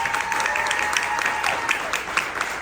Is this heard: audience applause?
yes